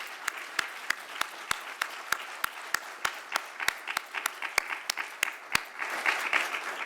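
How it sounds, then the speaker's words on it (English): Audience applauding at a community event on early learning in Minnesota, a sustained round of crisp, dense clapping that swells slightly toward the end. "So a big round of applause for the two of them."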